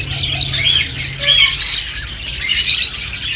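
Birds squawk loudly and repeatedly at close range in a bird shop market, harsh calls overlapping amid busy background chatter, with a pet American breeding bird among those on sale.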